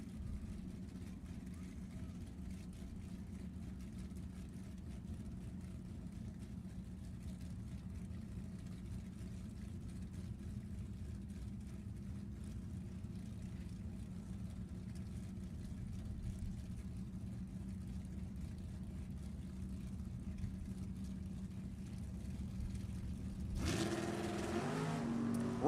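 Drag race cars at Sacramento Raceway during a Summit ET series race give a steady, distant low engine drone and rumble, which swells into a louder burst of acceleration near the end. A track announcer talks over it.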